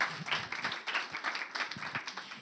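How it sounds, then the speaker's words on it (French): Brief applause from an audience after a presentation: quick, fairly soft, dense clapping that carries steadily through the whole moment. "On peut vous applaudir pour la présentation."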